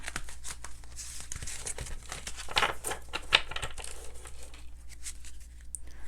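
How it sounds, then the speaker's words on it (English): Tarot cards shuffled and pulled, quiet close crinkly rustling and papery flicks with a few sharper snaps, no talking. "let's just pull some more tarot cards here and see"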